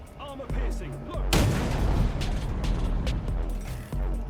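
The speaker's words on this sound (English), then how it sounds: "It's a nice powerful gun" Heavy cannon blast from a tank in the Trailmakers building game: a sudden loud boom around the middle with a long rumbling tail, framed by mechanical clanks and engine rumble before and after.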